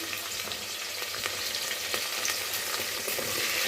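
Garlic, curry leaves, tomato pieces and coriander fry in a pan with a loud, continuous crackling sizzle. Scraping stir strokes repeat through it, and no one speaks.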